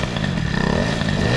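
Boosted 103 moped engine with a Doppler setup idling close by, a loud, dense, steady mechanical burble with rapid rattling pulses and no talk.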